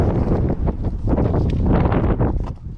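Strong wind buffets the microphone outside a 2023 Subaru BRZ Sport-Tech on a winter day, a loud, continuous roar with gusty swells that eases slightly near the end.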